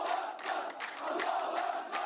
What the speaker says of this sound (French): une foule en colère enterre son nouveau martyr